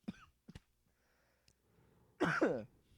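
A burst of harsh coughing near the end, preceded by a few short sharp throat sounds and quiet pauses.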